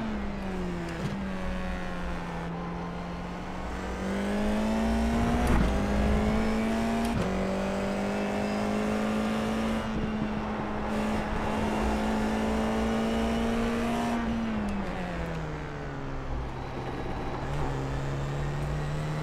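Formula 4 race car engine on the Snetterton circuit in the iRacing simulator, a steady loud high-pitched drone that holds through the laps and then dips and shifts as the gears change, with no talking over it.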